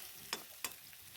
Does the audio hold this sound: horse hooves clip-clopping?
no